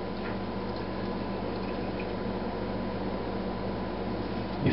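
Water rinsing through a Sawyer Mini water filter, a steady close hiss of flowing, dripping water that runs continuously without pause, with no talking.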